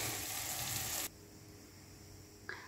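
Doughnuts frying in a bath of hot oil give a dense, steady sizzle for about a second, then cut off abruptly, leaving near quiet with a faint short crackle near the end.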